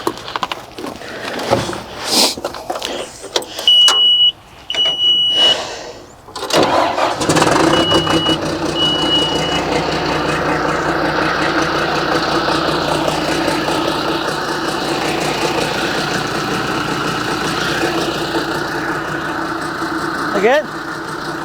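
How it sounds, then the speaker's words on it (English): A John Deere backhoe's engine cranks with clattering starter attempts and pauses, then catches and settles into a loud, steady diesel idle that runs close for the rest of the clip, with voices briefly heard. "Let's fire this thing up and see if she leaks anywhere."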